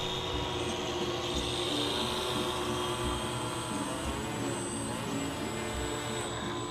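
A small RC model seaplane engine, a Mini Drake, drones steadily at close range, a constant high buzzing whine with no pauses, while the plane drags its left pontoon.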